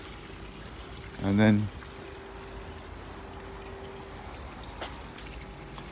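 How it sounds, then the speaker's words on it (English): Water runs beneath a big rock into a garden pond, a low, steady trickling wash throughout, with a brief spoken phrase early on. "the water comes in there. Comes in there underneath the big rock and goes underneath the bridge and travels all the way down into the pond"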